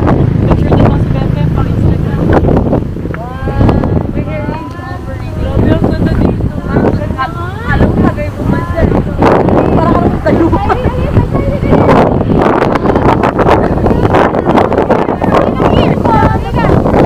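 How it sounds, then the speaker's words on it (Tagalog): Strong wind buffets the microphone at a roadside stopover, a steady loud rumble running throughout while several people talk and call out over it. "Lakas ng hangin."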